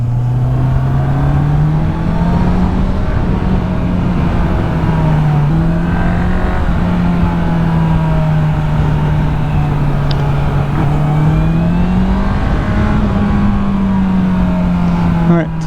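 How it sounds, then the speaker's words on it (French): A Honda CBR 650 R four-cylinder motorcycle with its stock exhaust hums at a steady ride, the engine note rising and falling gently through shifts against heavy wind rush, loud and continuous. "Et la sonorité avec le pot d'origine est vraiment super."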